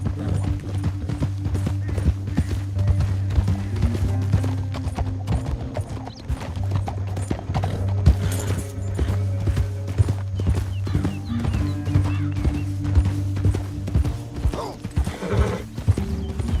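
Rhythmic clip-clop of horse hooves at a steady trot in the video game Red Dead Redemption 2, loud and near, over a low droning hum with faint rattling, and no voices.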